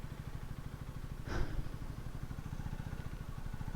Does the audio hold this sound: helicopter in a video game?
no